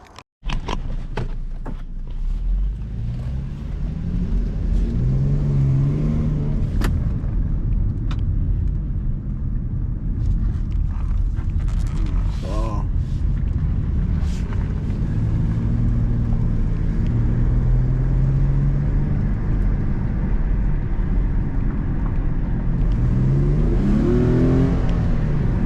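An Infiniti G37 AWD sports car drives and accelerates in sports mode, its engine a steady loud rumble from inside the cabin with rising revs at intervals throughout.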